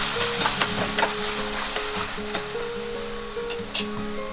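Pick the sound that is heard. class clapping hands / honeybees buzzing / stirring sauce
stirring sauce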